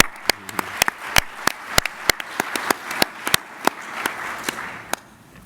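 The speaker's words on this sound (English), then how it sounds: "I would like to have a round of applause for the Fugro Geodata AI team" Sparse, scattered clapping from a small audience at a conference keynote, individual sharp claps standing out in an uneven rhythm over a quiet room.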